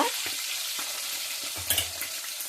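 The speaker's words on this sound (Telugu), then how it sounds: "ఎండు చేపలు వేగిన తర్వాత" Dried fish fry in a pan, a continuous close sizzle with brief stirring scrapes, loud and steady with no voices.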